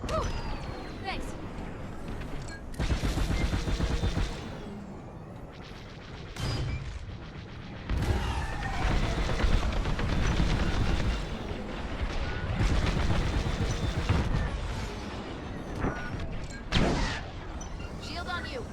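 Starfighter gunfire and explosions in Star Wars: Squadrons as fighters attack a comsat, with loud bursts of blaster fire and booms alternating with quieter lulls and a voice speaking over parts of it.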